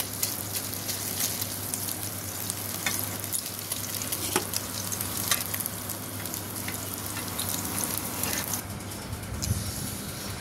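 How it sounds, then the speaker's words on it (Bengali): Fish frying in hot oil in a pan, a continuous close crackling sizzle with scattered pops and spatters, steady throughout with no talking. "আমার মাছ ভাজা হয়ে গেছে, এবার মাছগুলো একটা বাটিতে উঠিয়ে নেব"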